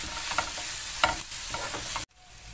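Mushrooms sizzle steadily in a hot pan with flour and cream while a utensil scrapes and stirs through them, then the sound cuts off abruptly near the end.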